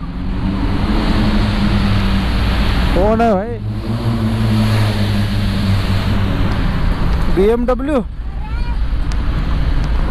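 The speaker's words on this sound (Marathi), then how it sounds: "एवढा आवाज करत कोणती गाडी आली आहे?" A loud vehicle roars through a road tunnel, its engine note rising in two sweeping bursts over a constant booming tunnel rumble, with someone speaking briefly nearby.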